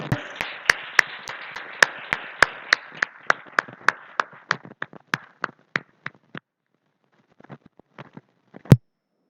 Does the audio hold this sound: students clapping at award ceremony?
yes